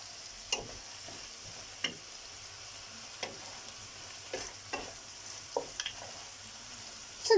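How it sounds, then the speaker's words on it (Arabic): A spoon stirs spices such as turmeric and ground coriander with vegetables and fish in a frying pan for a Spanish-style seafood paella, with sparse scraping taps over a faint, steady sizzle. "تنحركو التوابل مع هادشي اللي عندي ان شاء الله، مع هاد الخضيره مع الحوت"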